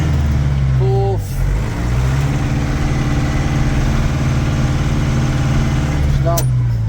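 A Case 844 XL Plus 4x4 tractor running steadily, a loud, close diesel drone with a low engine tone that dips briefly as it shifts through the gears, with someone talking over it.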